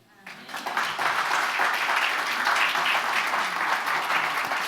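A church congregation stands and applauds, a dense wash of clapping that swells within the first second and holds steady and loud throughout, with faint voices mixed into the crowd.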